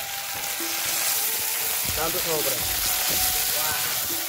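Fiddlehead fern (dhekia) sizzles steadily in a hot pan over a village cooking fire, a continuous dense crackle with occasional stirring scrapes and a brief voice in the background.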